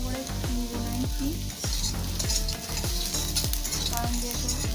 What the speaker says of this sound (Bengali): তো আমি আলুটা ভালো করে ভেজেও নেবো